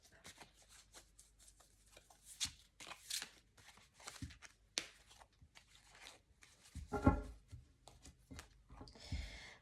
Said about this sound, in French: Alors, on va mélanger les cartes.